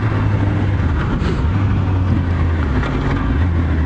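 Honda CBR600 motorcycle on the move, a steady low engine drone mixed with loud rushing wind noise throughout, no talk.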